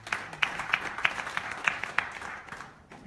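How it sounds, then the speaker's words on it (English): An audience claps at a business leadership event, a short scattered round of applause with distinct individual claps, moderately close, fading out after about three seconds. "Please, could we give Lola a round of applause for her?"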